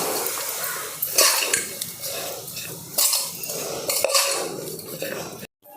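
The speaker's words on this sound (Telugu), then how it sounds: "ఇప్పుడు దీన్ని మనం ఇలా మిక్స్ చేసుకోవాలి" A spoon scraping and clinking against a bowl while mixing salted chickpea filling, irregular knocks and scrapes in short bursts, close and fairly loud, ending abruptly.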